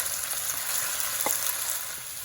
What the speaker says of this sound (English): I'm going to add in the onions.